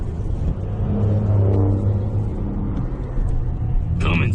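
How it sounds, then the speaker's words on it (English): A Cummins turbo diesel engine rumbles and revs nearby, a heavy low growl that builds briefly and holds, ending with a short sharp noise. "Cummins turbo diesel"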